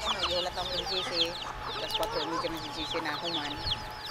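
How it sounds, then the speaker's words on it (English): Many chickens cluck and chatter continuously nearby in Kauai, Hawaii, a dense flock sound with overlapping calls, and a voice briefly speaks in the background. "Look at all these chickens."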